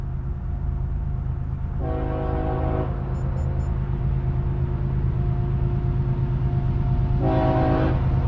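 A CSX or Norfolk Southern freight train on the Conrail Lehigh Line rumbles steadily up close. Its multi-tone horn sounds in two loud blasts, a short one early and another near the end.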